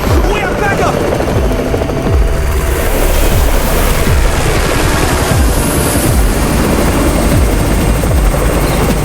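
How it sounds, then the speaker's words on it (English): A helicopter in the zombie action game Undawn roars loud and close, its rotor thumping steadily under a constant wash of wind-like noise throughout. "It's the Raven's chopper! We have backup!"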